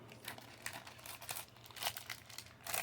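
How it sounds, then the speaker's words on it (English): Plastic blister packaging of a Masters of the Universe Masterverse action figure is cut and pulled open up close, with crinkling and tearing bursts and a longer rip near the end. "Go ahead and cut this open here."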